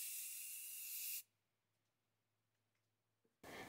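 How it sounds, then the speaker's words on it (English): White spray paint hisses from an aerosol can onto cement spheres, one steady loud burst for about a second, near silence with faint ticks, then a second burst starting. "Next, I'm spray painting the spheres with my heirloom white spray paint."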